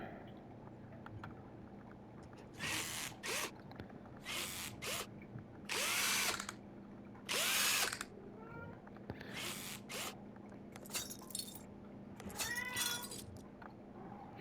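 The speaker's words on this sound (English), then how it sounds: "You can probably do this in half the time because we got the electric drill versus doing the ratchet." Electric drill used on a car repair in the video game Car Dealer Sim: short whirring bursts, several in a row with gaps between, over a low background hum, while a cat meows faintly at times.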